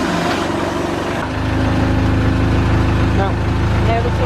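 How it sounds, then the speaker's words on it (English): A hired narrowboat's engine running on a canal, a steady low diesel drone with a slight shift in pitch partway through, with people talking close by over it. "turn the engine on to see if any water is escaping"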